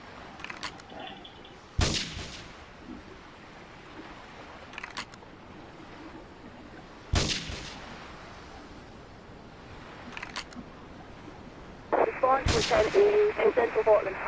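Gunfire in GTA 3 while shooting enemies, a few isolated loud shots spaced several seconds apart, closing with a burst of rapid crackling fire over a low background hiss.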